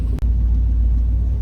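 An old Chevy truck engine pulls slowly in granny gear, a steady loud low rumble heard close with one tiny click near the start.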